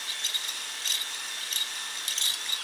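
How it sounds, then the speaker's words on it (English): A power drill bores into a brand-new aftermarket bump steer correction part for a BMW E34 with an M50 turbo engine, giving a steady high grinding whine with a few louder surges, close and with no talk over it. "drilling into a brand new part sucks"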